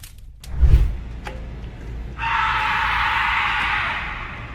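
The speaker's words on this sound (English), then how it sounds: "Scary screams." Screams in a house rumored to be haunted: a short low burst near the start, then a long, steady, harsh high-pitched wail that holds for a couple of seconds, loud and alone.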